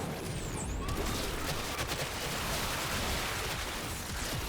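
Blast explosions from the Blast Enkaus beam weapon in a video game keep firing as a dense, continuous crackle of bangs and booms. They go on without a break and stay loud throughout.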